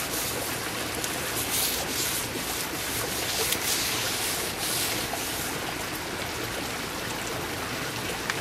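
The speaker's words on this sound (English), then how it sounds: "just take a small quantity of your mix and rub it on here." Concrete mix rubbed by hand onto the rough underside of a faux bois concrete bridge, a continuous close gritty scraping and rasping that holds steady throughout.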